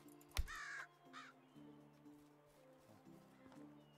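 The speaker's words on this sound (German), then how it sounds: "Wir sind Krähen. Kann ich so eine Krähe fangen?" Crows cawing in the Medieval Dynasty video game, one sharp loud caw followed by a second shorter call early on, over a quiet background with faint game sounds, then fading away.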